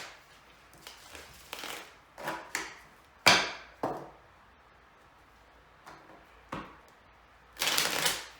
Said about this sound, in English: I've shuffled the cards already, but I'll give it one or two more shuffles